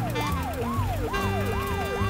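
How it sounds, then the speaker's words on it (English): A police car siren in the driving game Does Not Commute wails in rapid rising-and-falling sweeps, loud and continuous over a low engine-like hum, with no talking. "I'm a police car, get out of my way."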